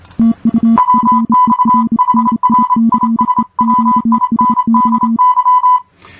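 Two Morse code phrases sent at 25 to 35 words per minute as steady sidetone beeps, switching between two pitches, in rapid dit-dah rhythm, loud and clean with no talking.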